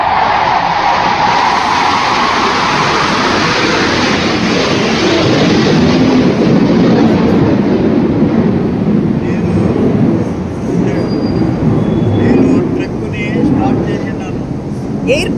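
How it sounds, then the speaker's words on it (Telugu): A large truck rolls in near an airport, arriving with a load for a giant monolithic Vishnu statue, its steady loud rumble and rattling running unbroken throughout with no voices. "ట్రక్ వచ్చింది."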